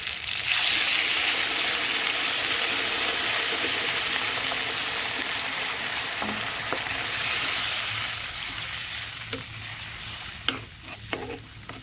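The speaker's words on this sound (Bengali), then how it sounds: "মশলার সঙ্গে সবজিগুলো খুব ভালো করে কষানো হয়ে গেছে জল দিয়ে দেবো" Water poured into a pan of spiced vegetables frying for Bengali shukto, a loud sizzling hiss that gradually settles, then scattered stirring clinks and scrapes near the end, with no talk.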